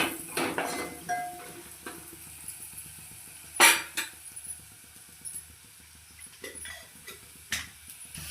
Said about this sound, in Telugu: కారం వేసిన తర్వాత దీన్ని ఇలా మంచిగా కలుపుకోవాలి